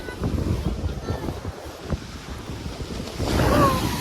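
Sea waves wash in at Porbandar Chowpatty beach, a rushing surf under strong wind buffeting the microphone, swelling louder near the end as water comes in.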